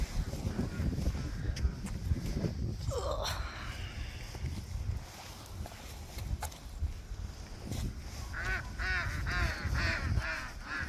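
Ducks quacking and geese honking at a lake, scattered calls at a distance with a clearer burst of honks near the end, under faint outdoor noise and occasional talk.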